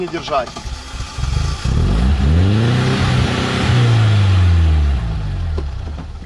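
A cheap car's engine revs up and down in rising and falling sweeps, then sags and cuts out as if stalling, heard close and fairly loud.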